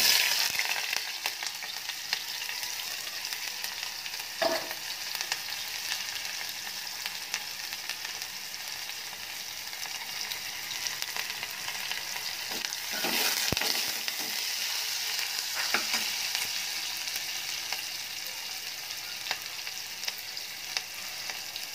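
Onion pieces fry steadily in hot oil for gongura chicken, a continuous close sizzle with a few scraping stirs and no voices.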